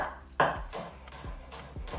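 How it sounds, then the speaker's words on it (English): A knife chops coriander or parsley on a board in a fast series of soft, close thuds with a louder first cut, and nobody speaks. "the next thing we'll be chopping down is the coriander or parsley"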